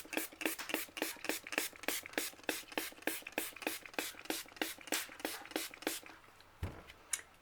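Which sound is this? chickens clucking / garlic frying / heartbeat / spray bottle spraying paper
spray bottle spraying paper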